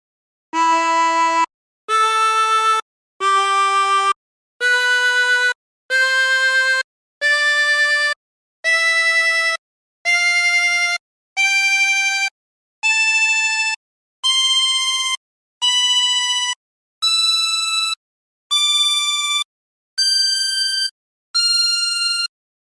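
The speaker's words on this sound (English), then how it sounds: "if you played them all in succession from holes number 1 through to 16, you would end up with something that sounds like this" A 16-hole tremolo harmonica played one hole at a time from 1 through 16, sixteen separate sustained reedy notes stepping upward in pitch with short gaps between, clear and close with no talking.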